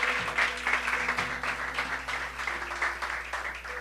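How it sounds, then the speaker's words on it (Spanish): A church congregation applauding during a sermon, sustained dense clapping at moderate loudness over a low steady hum. "Dale esas palmas bien fuerte."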